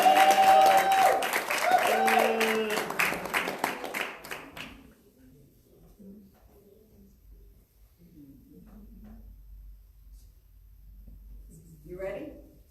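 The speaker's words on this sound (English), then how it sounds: "Come on, let's give him a round of applause." Audience applause at a live show, a dense burst of clapping that starts loud and tapers off after about four seconds, with a strong tone and voices mixed in, then quiet room murmur.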